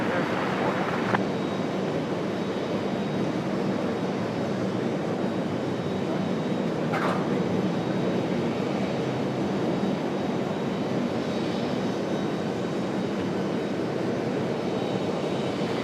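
A jet airliner arriving on runway 23 right at Raleigh-Durham airport, a steady loud engine roar and broad rushing noise sustained throughout, with a couple of faint clicks and no audible talk.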